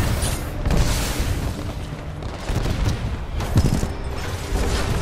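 Gunfire and booming impacts from the video game Titanfall 2 fill a dense, loud battle din, with heavy thuds and bursts repeating throughout.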